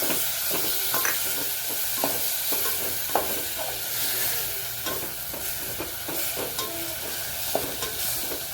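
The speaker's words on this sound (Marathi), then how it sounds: "हे व्यवस्थित आपण परतून घेऊया।" Tomatoes, homemade masala paste and chopped vegetables for sweetcorn masala rice sizzle and fry in a pan, with steady hissing and frequent scraping stirs close by.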